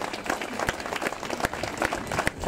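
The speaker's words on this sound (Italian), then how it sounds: "a cui fai un bel applauso" An outdoor crowd in a town square in Abbasanta applauds an artist at a statue event, a close, lively spatter of clapping with a few louder individual claps throughout.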